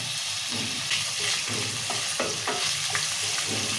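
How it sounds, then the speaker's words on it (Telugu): Onions, tomatoes, green chilies, coriander and curry leaves fry in hot oil for semolina upma, a steady close sizzle broken by repeated scrapes and clinks of a spoon stirring the pan, with no voices. "ఇవన్నీ నూనెలో మంచిగా మగ్గాలి ఉల్లిగడలు టమాటలు మిరపకాయలు కొత్తిమీర కరివేపాకు"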